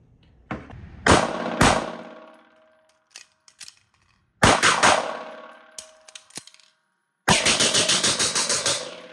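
A Springfield Prodigy pistol with a ported barrel fires outdoors in loud, sharp, close shots: two quick shots, a pause, another volley, then a rapid string of about ten evenly spaced shots with ringing decay.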